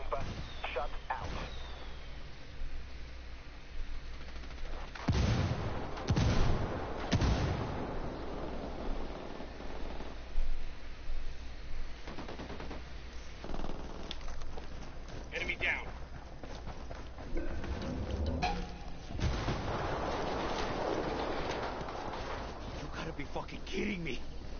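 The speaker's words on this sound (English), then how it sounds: "Call Pacatari for some mortar fire" Mortar artillery fire in a video game lands as dull booms and rumbling blasts scattered across a long stretch, layered under radio chatter and speech from the game characters.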